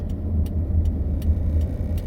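A taxi's car engine runs steadily, a low rumble held at an even level for two seconds with faint, regular clicks above it and no talk.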